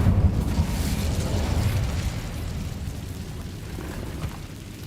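A fire spell cast in the Hogwarts Legacy wizarding game bursts out as a loud, booming whoosh that roars from the start and slowly fades over several seconds.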